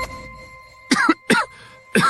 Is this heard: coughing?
yes